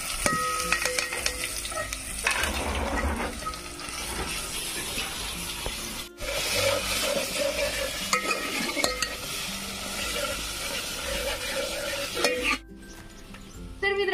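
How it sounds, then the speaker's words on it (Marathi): An onion-coconut masala paste with garlic is fried on a wood-fired stove for a fish curry, producing a close sizzle with scraping stirs and clinks of the pot, interrupted by brief pauses, and no one speaks. "तर मसाला याच्यात टाकून देते मी कांद्या खोबऱ्याचं वाटण."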